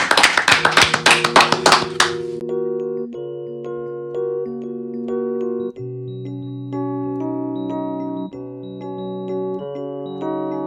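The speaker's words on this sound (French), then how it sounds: "On pratique ici l'applaudissement de confiance, juste avant un live dans le Loft Music" A studio audience in a live radio music loft gives a short burst of loud, dense applause, which stops after about two seconds as a live band begins playing steady sustained chords.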